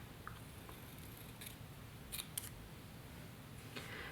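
Scissors snip paper for a December Daily scrapbook journal, a few short crisp cuts in quiet surroundings, faint and close.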